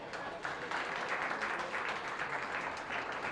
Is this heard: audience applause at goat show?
yes